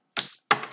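Two quick papery bursts of tarot cards being riffled or shuffled, each a short crisp flutter, close and fairly loud.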